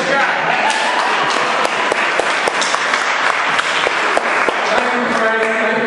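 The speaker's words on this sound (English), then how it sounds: "A nice round of applause for Jack." Meeting audience applauds steadily for several seconds, dense clapping close and loud, with a few sharper thumps and taps scattered through it.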